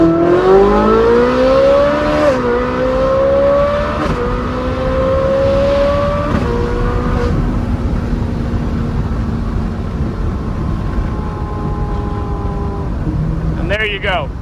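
A Ferrari 458 Spider's engine revs hard to 9,000 rpm through a couple of gear changes, its loud rising wail stepping down between shifts before easing off, close and dominant over a brief moment of road noise.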